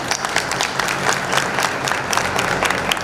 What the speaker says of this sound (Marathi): या सगळ्या बायकांसाठी प्लीज टाळ्या वाजवा.